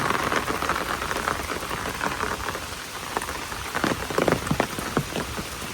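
Steady rain falls on a village after a night-long downpour, with paddy fields flooded. The patter is dense and continuous, with scattered sharper drops standing out close by.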